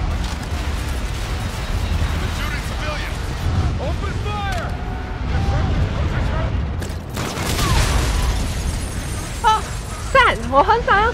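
Grenade blasts in Call of Duty: Infinite Warfare, heavy booming bursts crashing through a dense battle mix of gunfire and game sound, loudest late on, with someone talking over the action.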